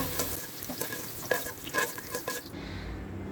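Bottle gourd and potato pieces frying in oil until browned, a close crackling sizzle with stirring clicks and scrapes that drops to quiet near the end.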